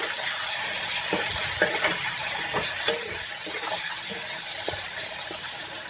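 Potato pieces fry in a pan with turmeric and salt, giving a steady close sizzle and hiss broken by a few soft stirring scrapes.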